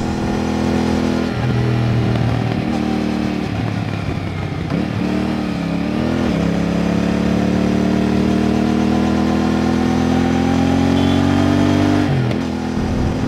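A Kawasaki 450NK motorcycle engine, just after its first maintenance service, runs close by, idling with a steady rumble, then revving up and holding a higher, even drone.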